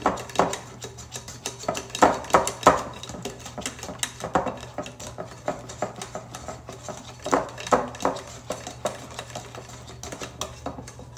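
A wire whisk beats cupcake batter for an apple and spice recipe in a bowl, giving rapid rattling clatter in uneven bursts close by, loud and without speech.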